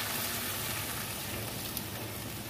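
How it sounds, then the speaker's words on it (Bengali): Rinse water from a spice bowl pours into masala frying in a pan, giving a dense, steady sizzle and crackle that holds evenly for a couple of seconds with no talk. "এবার আমি এই যে মশলা বাটি ধোয়া জলটা দিয়ে দিচ্ছি"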